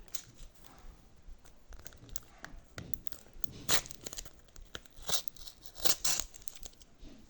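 A small plastic packet from a collectible unboxing gets torn open, a few sharp crinkling rips and rustles standing out against quiet handling noise, close and fairly soft.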